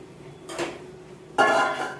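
Bitter gourd pieces tipped into a pan and stirred, producing two close metallic clatters, a softer scrape followed by a louder, ringing clank of utensil on pan, with no talking.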